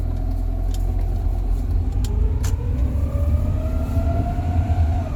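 Rover 45 Impression S3 with a CVT gearbox while driving, its engine note wandering up and down unevenly, a steady low drone with tones sliding and rising, heard from inside the car with faint clicks and no talking.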